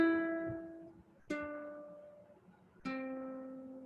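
Three plucked ukulele notes on strings 2 and 3, each ringing out and slowly fading before the next, clean and close with no talking.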